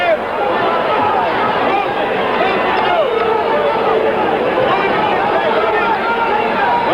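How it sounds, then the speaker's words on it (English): A large boxing crowd at a 1977 heavyweight bout between Muhammad Ali and Alfredo Evangelista keeps up a loud, continuous roar and babble for the whole stretch, with a commentator's voice running over it. "Crowd roars as Evangelista"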